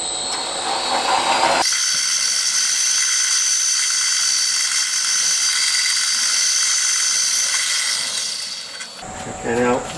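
A drill spots a hole in a Stuart Turner No. 8 mill engine steam cylinder held in a vise, a steady high whirring that runs for several seconds before stopping, with a short clatter at each end.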